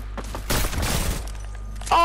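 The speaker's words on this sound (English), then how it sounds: "we both took a shot at him. And I got the snipe" Sniper rifle shots fired in a video game, a dense burst of loud overlapping blasts around the middle, followed by a sharp electronic tone at the end, with no voices over it.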